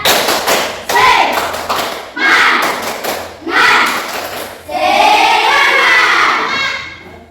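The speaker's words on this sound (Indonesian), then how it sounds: "Ya, tepuk semangat dulu." A classroom group does a rhythmic 'tepuk semangat' spirit clap, bursts of loud claps in patterned runs, with children's voices shouting and chanting along between and over the clapping.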